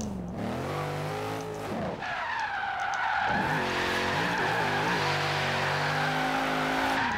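A car drifts in Forza Horizon 3, tires squealing in long continuous skids over a revving, shifting engine, loud and close throughout with no talking.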